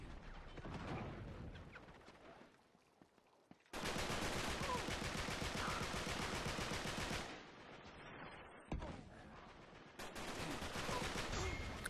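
Uncharted 3 multiplayer gunfire: long sustained bursts of rapid automatic shots, loud and close, broken by short lulls, with a single sharp crack between the two barrages.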